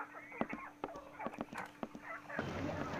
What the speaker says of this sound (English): What will you give me for this splendid free-range chicken?